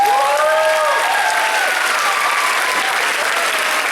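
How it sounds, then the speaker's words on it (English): Audience at an 8th grade graduation ceremony applauds the teachers with loud, sustained clapping that fills the whole stretch, while faint musical tones drift underneath early on. "Let's give our teachers a round of applause."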